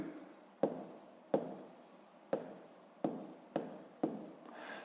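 Pen or pencil writing digits by hand on paper for a fifth-grade maths exercise: six sharp taps spaced about a second apart, each trailing into a short scratchy stroke, close and fairly quiet with no talk.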